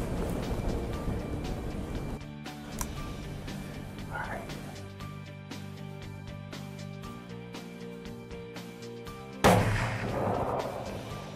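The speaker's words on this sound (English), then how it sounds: "I'm gonna take the shot right there." A hunter fires one shot at an Iowa buck from a hunting stand: a single loud, sharp crack near the end, after quiet outdoor ambience with low murmuring.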